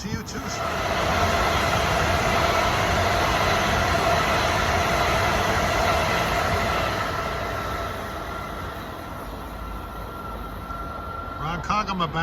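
An eastbound Long Island Rail Road train rushes fast past the Westbury triple-track station, a loud steady roar of wheels and cars lasting several seconds before easing off, with a voice talking briefly.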